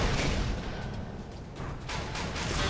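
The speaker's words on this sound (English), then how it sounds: "It'll just be kind of like a triple explosion" Rounds exploding in the Tribes Ascend video game, loud overlapping booms and blasts rolling continuously with a few sharper bursts near the end.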